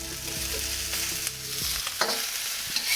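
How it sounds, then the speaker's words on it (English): Beef sizzles as it is stirred into softened onions in a hot pan, a steady frying hiss with a few soft utensil taps, with no talking. "now I'm gonna chop in my beef,"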